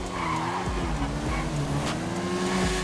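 Custom motorbike in GTA 5 accelerating hard during a drag run, a loud continuous engine drone with rising and shifting pitch, tire squeal mixed in, steady throughout.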